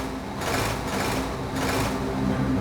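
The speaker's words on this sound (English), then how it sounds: "Diesel revved his engine." A cartoon diesel engine revving as a continuous buzzing, rattling drone that swells and recedes in a few waves, with no voices.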